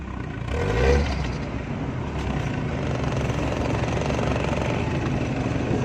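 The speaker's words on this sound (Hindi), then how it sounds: "गाड़ी को इधर रेस ही दो ज़रा।" A rebuilt Toyota Corolla 1300cc 12-valve petrol engine revs up once, swelling to a peak, then settles into a steady, loud, rough idle close to the microphone.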